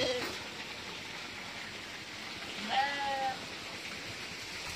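A single short goat bleat rises briefly from a village farm beside rice fields, fairly faint over a constant hiss of outdoor background noise.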